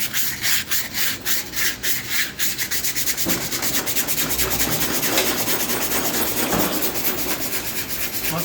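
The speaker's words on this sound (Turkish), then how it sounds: "Önce bir burcuna güzel bir zımpara" Fast, rhythmic scrubbing of sandpaper against a metal pin, close and loud, the strokes quickening into a continuous gritty rasp.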